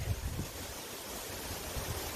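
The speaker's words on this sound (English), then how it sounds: "It's Labor Day. It's really windy." Strong wind roars in a low, steady rush with gusty buffeting against the microphone outdoors after overnight thunderstorms, no talking.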